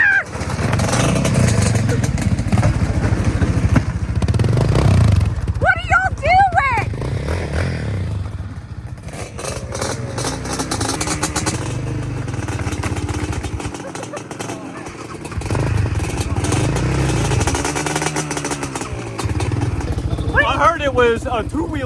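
Losi Promoto MX RC motocross motorcycle running outdoors, its small electric motor whining and rising in pitch as it revs, with scraping and clatter, under people talking and shouting throughout.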